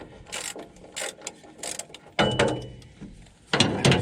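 A ratchet with a 19mm socket works banjo bolts on a Kobelco machine, giving several separate bursts of clicking and mechanical rasping up close, with short pauses between them.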